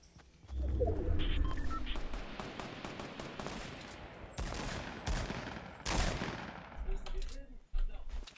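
Gunfire in Fortnite Battle Royale: a string of sharp, quiet shots and short bursts scattered across several seconds, with some louder cracks near the middle and end and soft ambient sounds between them.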